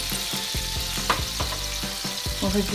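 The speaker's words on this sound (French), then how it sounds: "déglacez à l'eau votre poêle, vous faites bouillir" A hot frying pan deglazed with water after cooking chicken and cherry tomato skewers, hissing and bubbling in a steady loud sizzle, with soft stirring scrapes at a loose rhythm and no voices.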